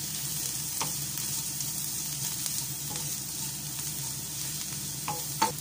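Spices such as turmeric stirred into frying onions in a pan for an aval chicken dish, with a steady sizzle and light scraping throughout and a couple of sharper clicks near the end.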